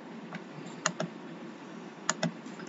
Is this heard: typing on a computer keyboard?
yes